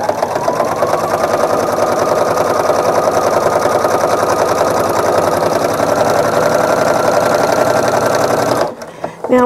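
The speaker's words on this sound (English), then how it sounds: "So I'm going to do a couple of back stitches. and then stitch all the way down" A sewing machine stitching a fabric placemat runs loud and steady with a fast mechanical whir, then stops abruptly near the end.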